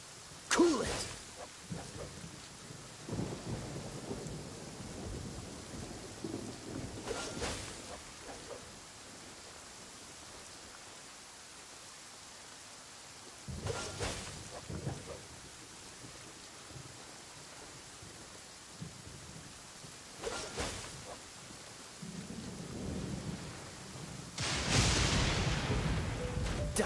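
Rain hisses steadily through a video game scene, a soft continuous wash broken by several louder rumbling swells that fit distant thunder, with brief voice bursts over it.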